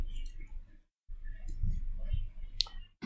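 Bursts of light clicking from keys tapped on a computer keyboard while entering a command on an Ubuntu machine, with a short pause mid-way and a sharper click near the end.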